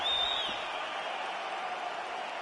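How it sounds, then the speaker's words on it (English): A virtual arena crowd in the UFC 5 video game applauds and murmurs after a round ends, a steady, distant wash of clapping and cheering with no voices over it. "the crowd voicing its appreciation after that round"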